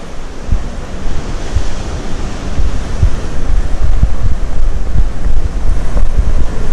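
Sea waves wash steadily along the rocky Costa Brava coast near Blanes, a loud continuous roar of surf with heavy wind buffeting the microphone and no speech.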